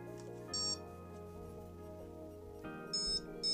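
A paragliding variometer chirps high electronic beeps in short bursts over a steady hum, a pair near the start and a faster cluster toward the end.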